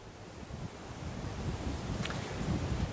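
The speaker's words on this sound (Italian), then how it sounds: "Guarda, c'è il vento" Steady wind rushes and buffets against the microphone, a low continuous roar that swells slightly, with no voices.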